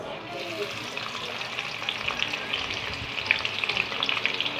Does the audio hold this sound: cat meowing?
no